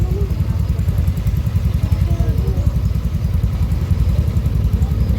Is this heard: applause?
no